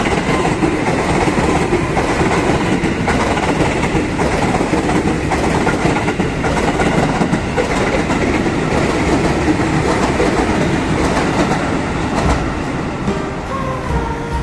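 KRL commuter electric train on the TB Simatupang line rolling past the former JPL 20c railroad crossing near Tanjung Barat station, a loud, steady rumble of wheels and carriages with rhythmic clickety-clack that runs the whole time with no talk.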